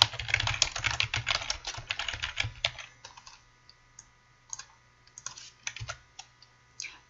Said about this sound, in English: type in bold the title